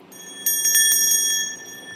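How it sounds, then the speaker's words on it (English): A small bell rings rapidly and brightly at a jewelry auction, a sharp metallic trill of quick repeated strikes with long shimmering overtones, loud and close, fading out after about a second. "Listen to that bell."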